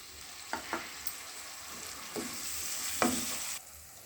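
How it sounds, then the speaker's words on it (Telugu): Chopped tomato fries in a pan with turmeric and spices, giving a soft continuous sizzle with a few light scraping stirs, no talking. "పచ్చివాసన పోయేంత వరకు బాగా ఫ్రై చేసుకోవాలి"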